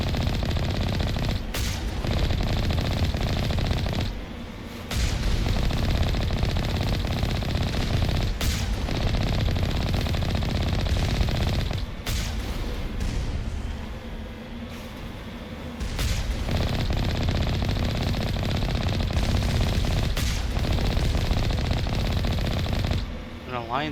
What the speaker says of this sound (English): An Alliance heavy turret.